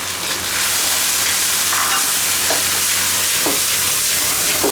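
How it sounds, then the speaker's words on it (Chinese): Pickled vegetables and chicken feet stir-fry in an oiled wok, a loud continuous sizzle and hiss with scraping stirring strokes, no talking. "再炒一个泡菜鸡爪，放油，炒鸡爪"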